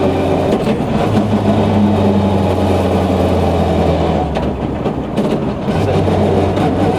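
Subaru Impreza WRC rally car driving on a public road, its engine a loud, continuous low drone with steady harmonic hum, easing briefly near the end, no voices.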